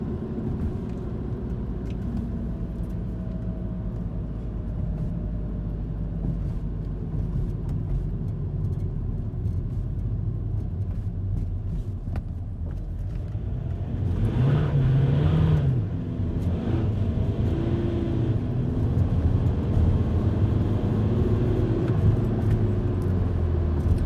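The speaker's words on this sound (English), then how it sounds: "We got wet roads here, so it's not really good for acceleration, but here's a pull." A Volkswagen TDI diesel car with a DSG gearbox accelerates hard on a wet road at night, its engine a steady low rumble that swells and rises in pitch partway through as it pulls, with no talking.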